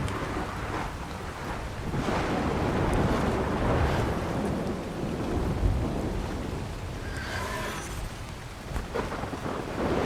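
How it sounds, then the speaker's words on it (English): A thunderstorm in the video game ARK: Survival Ascended on The Center map brings steady heavy rain with rolling rumbles of thunder, loud and continuous, with no talking. "gotta love the thunderstorms of the center"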